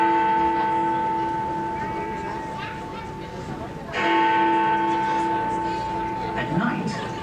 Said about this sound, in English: that's really the name of the giant bell inside that chimes the hours